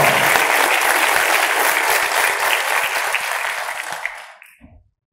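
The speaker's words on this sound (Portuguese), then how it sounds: "Salva de palmas." A crowd at the Interagro 2024 agricultural event gives loud, sustained applause that fills most of the clip before fading out and stopping near the end.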